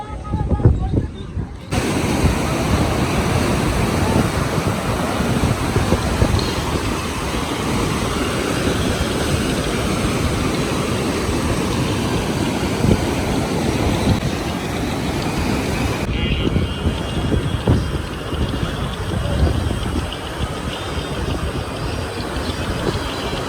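Floodwater after heavy rain rushes steadily through a river at Ratanpar in Surendranagar, a loud, continuous broadband roar that holds without a break for the whole stretch.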